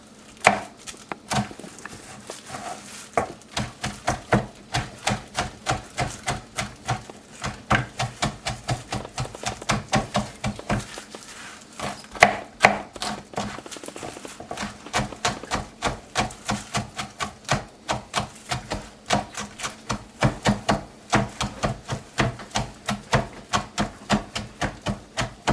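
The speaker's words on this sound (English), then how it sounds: "So we're going to mince it up really well." A knife minces ingredients for homemade pikliz on a cutting board, a long run of rapid, close, rhythmic chops in quick bursts with short pauses and no talking.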